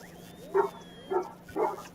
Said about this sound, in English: Dogs lose their mind. She never barks.